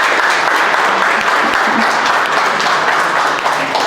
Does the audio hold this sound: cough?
no